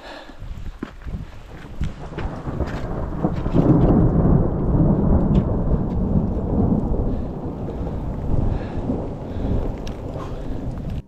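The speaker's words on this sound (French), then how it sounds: "Ça c'est moi qui m'apprête à me prendre le plus gros orage de ma vie en pleine montagne" A thunderstorm breaks in the mountains around Mont Blanc, with heavy rain and a long rolling rumble of thunder that swells loud midway, then eases while the rain keeps pouring.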